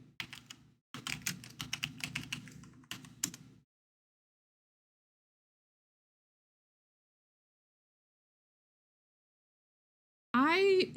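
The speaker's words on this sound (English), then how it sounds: "I just started typing Nerd." Rapid clattering keystrokes on a computer keyboard come in two quick, close bursts, followed by a long silence and then a brief rising electronic tone at the end.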